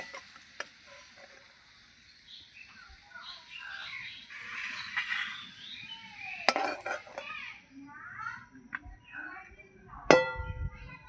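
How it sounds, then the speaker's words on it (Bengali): Fried potatoes are lifted out of a pan of oil and set on one side of a plate, making sparse metallic clinks and scrapes of a utensil against pan and plate over a faint background sizzle. "এবার আলুটা আমি তুলে নেব তুলে আমি এই থালের এক পাশে রাখছি"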